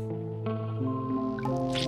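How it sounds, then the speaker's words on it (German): Fruit squeezed into a water tank in the survival game Dead In Bermuda: a short wet squish and dripping effect layered over a sustained tonal game music bed, no talking. "Und können jetzt hier Früchte rein squeezen."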